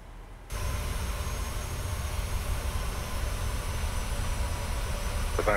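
A Westjet Boeing 737 on a missed approach at Toronto Pearson gives off a steady, broad engine roar that starts suddenly and holds, loud and unbroken, with no voices.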